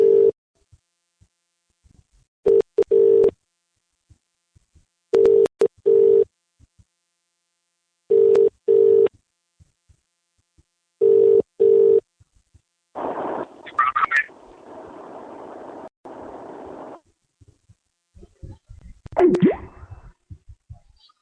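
Telephone line tones sound while a diverted call connects: a steady two-tone beep repeats in short bursts about every three seconds, followed by a brief burst of noisy line hiss and a warbling electronic tone, with no talk.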